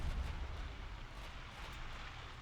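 Light cruiser guns firing a salvo in the naval warfare game Ultimate Admiral Dreadnoughts, a continuous low, rumbling boom that holds at steady loudness throughout without clear separate shots.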